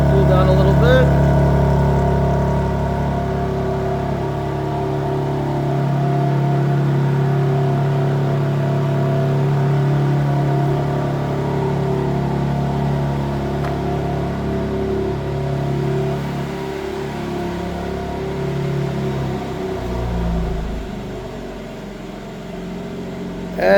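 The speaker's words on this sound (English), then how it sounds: "So this is what the remote engine start, cold start sounds like." A 2026 BMW M3 Competition engine idling with a deep, steady rumble after a remote cold start, revving slightly higher at first before settling lower; a voice speaks briefly over it.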